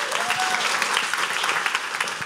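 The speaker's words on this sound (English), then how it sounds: "give a big round of applause for Justyna Wydrzyńska" Steady, dense audience applause fills a lecture hall for a Polish abortion-rights activist convicted over providing abortion pills, a continuous clatter of many hands with a brief tonal whistle-like squeak early on.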